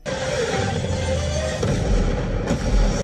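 Dense, loud, continuous blasts and gunfire from terrorists' weapons during an action film scene, a sustained roar of explosions with heavier booms toward the end.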